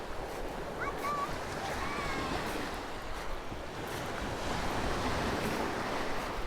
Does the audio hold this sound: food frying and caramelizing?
no